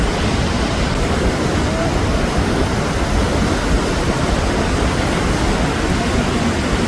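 The Alaknanda river near Badrinath rushes fast over rocks, a dense, constant roar of water, loud and close throughout.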